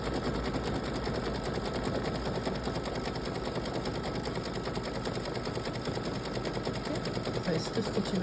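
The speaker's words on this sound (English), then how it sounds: "now it's going to do the satin stitch on the inside of the letter." An embroidery machine sews a satin stitch on the inside of a letter, giving a steady, fast, even needle chatter that runs without a break at moderate loudness.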